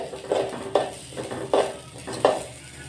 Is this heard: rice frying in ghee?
yes